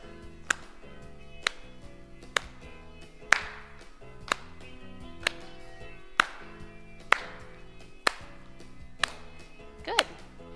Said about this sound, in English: The next thing we're going to go into is a step clap.